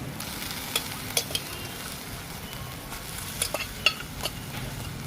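Pork pieces sizzle and fry in a pan in a country-style sauce while a spoon stirs and occasionally clinks against the metal, a steady close hiss with scattered sharp scrapes.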